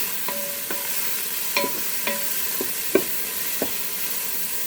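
Zucchini noodles cooking with shrimp in a Ninja Foodi pot, stirred with a utensil that gives a series of sharp scrapes and taps over a steady sizzling hiss, close and moderately loud with no talking.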